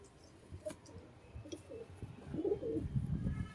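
Pigeons coo softly nearby, low throaty calls rising toward the end, with a few faint chirps and light rustling in the background.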